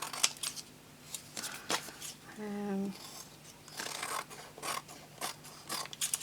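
Scissors trimming paper while making a 6 x 6 card, a few short crisp snips and rustles close by with a voice speaking over part of it.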